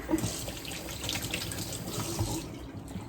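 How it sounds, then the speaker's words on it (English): Water runs steadily from a kitchen tap while hands are rinsed before cooking, a continuous close hiss and splash with no speech. "maybe give my hands a quick little wash again"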